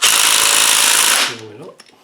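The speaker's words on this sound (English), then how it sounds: "The next thing we're going to do is take that little bolt out of there" Impact wrench or similar power tool buzzes loudly and steadily for over a second while removing a small bolt from an LT230 transfer box on a TD5, then cuts off, leaving brief rattles and a faint voice.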